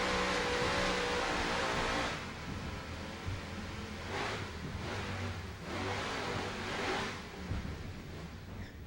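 Super V class powerboat Instigator racing, with a steady engine roar over water and wind that swells in several surges, heard from a distance.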